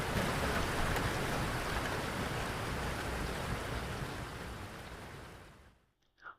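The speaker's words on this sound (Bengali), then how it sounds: "ট্রেন ছাড়তে না ছাড়তেই বৃষ্টি নামলো এমন প্রবল বৃষ্টি সচরাচর দেখা যায় না" Heavy rain pours down as a dense, even roar that gradually thins and fades to near silence at the end, with a faint knock after the fade.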